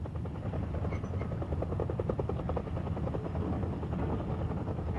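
A Soviet Mil Mi-10 Harke flying crane helicopter drones with a steady rotor thrum and engine whine, heard continuously at a moderate distance with no speech.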